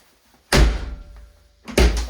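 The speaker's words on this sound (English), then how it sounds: "let's see how this door shuts" A Porsche 911SC car door slams shut twice, each a loud, solid, close thump followed by a brief rattle, with a quiet pause between the two closes.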